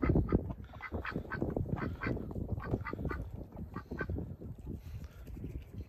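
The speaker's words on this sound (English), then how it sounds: "They're like, nope, we're outside ducks." Several ducks quack outdoors in the snow by slushy water, a busy overlapping chorus of nasal quacks in rapid bursts, fairly close but soft overall.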